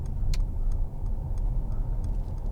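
A 2015 Mercedes-Benz C300 cruising on a motorway, a steady low road and engine drone from inside the cabin with a few faint ticking clicks over it, no talking.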